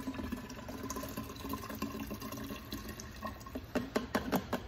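Apple cider vinegar poured from a can into a pan for pork spare ribs on a barrel smoker, a continuous liquid pour that splashes louder toward the end.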